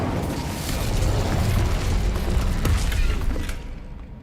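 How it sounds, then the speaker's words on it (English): An Incendio fire spell blasting through a magical barrier in Hogwarts Legacy, as a sustained roaring, rumbling burst with creaking debris that tapers off near the end. "Another barrier. We can blast through it"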